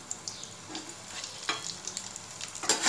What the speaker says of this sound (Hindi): ये जब तक गोल्डन कलर के हो जाएंगे तब तक मुझे इसको फ्राई करना है।